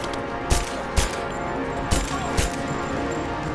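Enemy gunfire in Rise of the Tomb Raider: four sharp shots spaced about half a second apart, cutting through a dense, steady wash of game noise and music.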